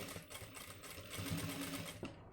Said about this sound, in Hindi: बिल्कुल इस निशान पर हम सिलाई ले लेंगे